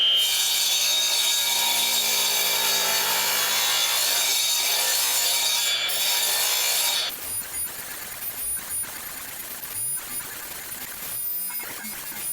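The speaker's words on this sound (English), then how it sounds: "I ended up doing it with the radial arm saw, without a dado stack" A radial arm saw cuts through wooden rafters for a colonial-style shed, a loud, steady, close-up whine of blade in wood running for about seven seconds before cutting off into quieter rustling and handling noise.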